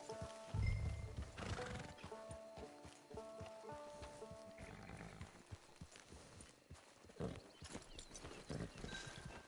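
Horse neighing and clopping hooves in the video game Red Dead, a whinny rising over a dense game soundscape with music and background voices, hoof steps recurring throughout.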